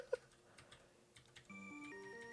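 Computer keyboard keys tap out quick, light clicks during a game of modern Tetris on the NES, then a steady chiptune melody takes over for the rest of the stretch.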